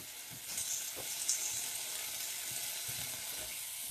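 Leeks sizzling in a pan of beef drippings and oil, a dense steady frying hiss with soft stirring knocks now and then, close and continuous with nobody speaking.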